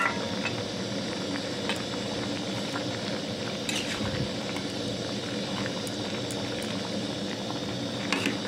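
Fried bata fish go into a simmering ridge gourd curry, with steady close bubbling and liquid gurgle running throughout.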